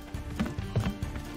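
Goats in the video game Lumberhill, heard as a short run of quick, light hoof clatters, fairly close and alone, with no talk.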